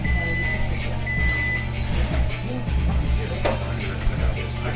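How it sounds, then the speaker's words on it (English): A rice cooker timer gives thin electronic beeps, two short tones near the start over a steady kitchen hum, then fades into background noise. "What timer was that?"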